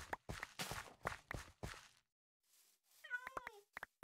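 In Minecraft, a run of soft in-game footstep thuds stops, and after a short silence a cat gives a single clear, close meow, followed by a few more quick steps.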